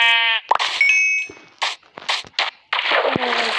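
Sheep in the video game Minecraft bleat in several short, loud, clear calls separated by brief gaps, with a bright chime-like tone partway through.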